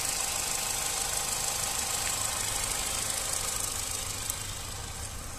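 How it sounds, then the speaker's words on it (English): A Vauxhall Astra 1.4i SXi Sport three-door petrol hatchback engine runs steadily at idle, a continuous even mechanical hum with a fine ticking texture, close and unchanging, with no talk. "smooth running engine,"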